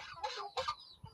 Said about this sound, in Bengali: মুরগি ধরে আছে মোরগ